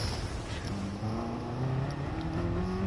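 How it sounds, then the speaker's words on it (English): A racing car in Gran Turismo Sport pulls a handbrake turn at the finish, engine droning and rising steadily in pitch with tyre noise, loud and continuous without speech. "A handbrake turn at the end"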